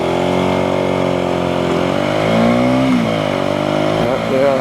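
A 125cc motorcycle engine rides through traffic in Singapore, its rising and falling engine note shifting pitch as the bike accelerates, steady and close, with a voice talking over it.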